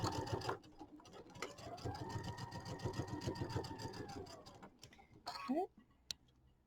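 Sewing machine running a quarter-inch seam in a quilt assembly, a rapid steady needle rattle for several seconds that stops, followed by a brief scrape and a click.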